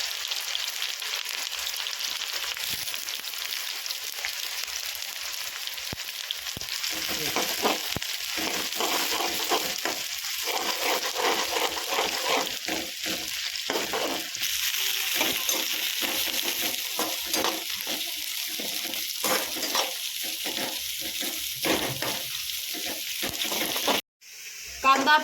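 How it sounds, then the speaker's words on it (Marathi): Onion slices hiss into hot oil for chicken biryani, a steady sizzle that builds as more onion goes in, with repeated scraping and stirring clatter throughout and a brief clunk near the end. "अशा पद्धतीने कांदा तेलामध्ये घालायचा। कांद्याला पाणी सुटतं, त्यामुळे सांभाळून तेलात कांदा सोडायचा आहे।"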